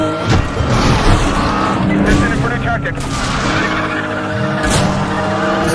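Car accelerating in Need for Speed: The Run, a loud continuous engine roar with rising and falling pitch sweeps, mixed with road and impact noise, steady and close throughout.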